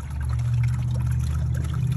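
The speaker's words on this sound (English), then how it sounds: "Now all the water that I filled the roughed in sewer system up with is pouring out of there." Water drains steadily from a small drilled hole in a roughed-in sewer pipe, giving a continuous close gushing and splashing pour that holds at an even level throughout.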